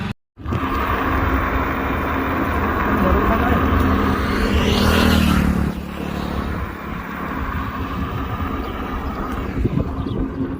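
A car travels along a road toward Semriyawan, a steady engine and road rumble that swells as something passes close around the middle and then settles back to a constant drone.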